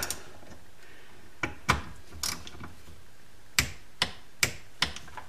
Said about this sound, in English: Take them up to where the torque wrench clicks.